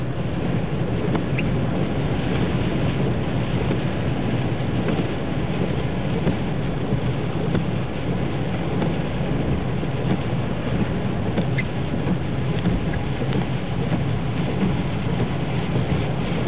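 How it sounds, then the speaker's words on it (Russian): Rain falls steadily during a drive into Karaganda, a constant dense hiss over the low rumble of the moving vehicle, unbroken for the whole stretch with no voices. "А тут дождь."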